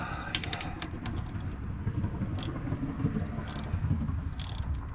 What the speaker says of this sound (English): Found our 3/8. And let's engage the tightening process.